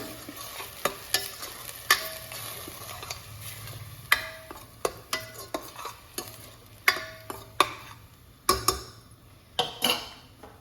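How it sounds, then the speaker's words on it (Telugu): Onion paste frying in oil in a pan for a tamarind fish curry with raw mango, a soft continuous sizzle broken by sharp, irregular clacks of a spoon stirring against the pan, near and fairly loud. "ఆనియన్ పేస్ట్ని 2 నిమిషాలు వేయించుదాము"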